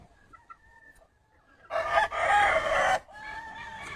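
A rooster from a game-fowl breeding farm crows once at close range, a loud, drawn-out call lasting about a second and a half, with quieter clucking and bird calls before and after.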